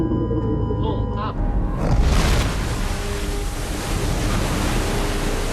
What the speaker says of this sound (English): They hit the river with incredible precision.